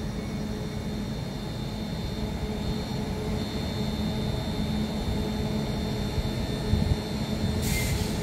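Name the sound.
Northern Rail class 331 train passing over a crossover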